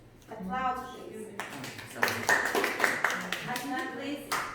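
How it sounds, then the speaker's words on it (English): Children in an English-language classroom quiz give a burst of applause, steady clapping that swells and continues under overlapping voices and chatter. "Applause, please."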